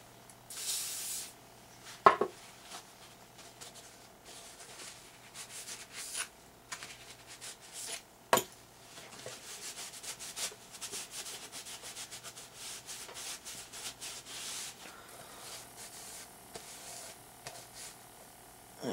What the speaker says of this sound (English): I'm gonna polish and clean and lubricate the gladiator.